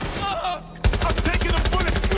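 Gunfire in the game Watch Dogs: Legion starts abruptly after a quieter moment and becomes a rapid, loud automatic volley of closely spaced shots.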